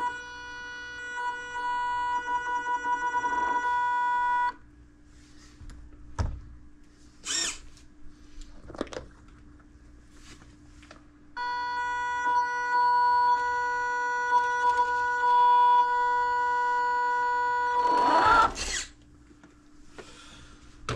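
Tiny electric motor and 120-amp ESC in an MN Model MN222 RC crawler whine at standstill, a steady high-pitched tonal buzz in two long bursts separated by a gap with brief clicks and knocks.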